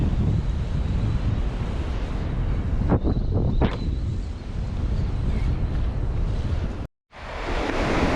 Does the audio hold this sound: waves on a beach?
yes